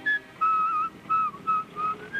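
A man whistles a simple tune in a few clear, sustained notes with short pauses between phrases, close by and alone.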